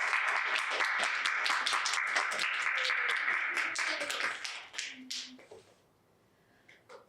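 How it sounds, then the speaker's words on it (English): Audience applause at a library Hot Ones event, dense and steady clapping that thins out and fades near the end, leaving a quiet tail with a few faint scattered claps. "All right, round of applause for Laura."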